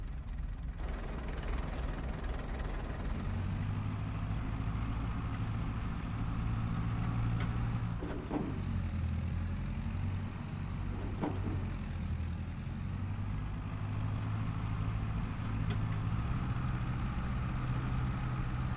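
A tractor engine, the model called the 50, idles steadily with a deep, continuous low rumble and hum that stays loud and even throughout, with a couple of faint higher mechanical whines and no talk.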